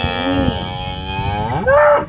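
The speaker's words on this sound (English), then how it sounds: "Come on, cows." Cattle on a farm moo loudly and close by, one long drawn-out low call followed by a rising, higher moo near the end, with no talking.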